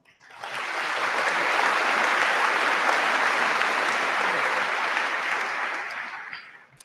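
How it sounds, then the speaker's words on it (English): High school graduates applaud at their 2018 Olathe South commencement ceremony, a sustained wash of clapping from a large crowd that swells quickly, holds steady for several seconds, then tapers off. "So let's give ourselves a huge round of applause."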